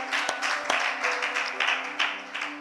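A church congregation applauding in acclaim, a dense wash of many hands clapping steadily with a few louder individual claps standing out, fairly close and sustained throughout.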